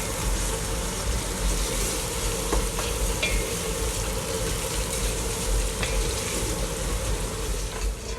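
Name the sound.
onions frying in a pan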